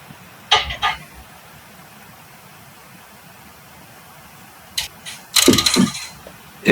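Ratchet wrench loosening a 7 mm hex screw on a front brake, two short bursts of rapid clicking, then a louder run of quick ratcheting clicks near the end, close and with quiet gaps between.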